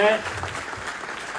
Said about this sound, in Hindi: जोरदार तालियों से आप है तो अबरार भाई के लिए।